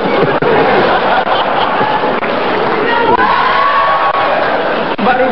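Dense crowd noise from a packed live television talk-show studio audience, loud cheering and clapping blended with shouts and chatter, continuous and near throughout.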